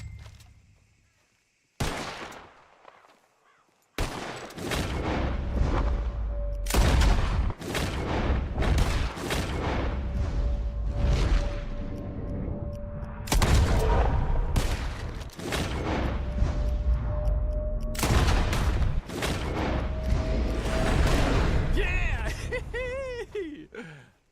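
Rapid bursts of gunfire in a Red Dead Redemption 2 shooting contest, many loud sharp shots in quick irregular succession with booming echoes over a steady low game ambience, after a short quiet start.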